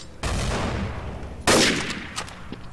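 Sniper rifle fire in Counter-Strike: Source, two loud sharp blasts about a second apart, each trailing into a ringing decay with a few smaller pops after.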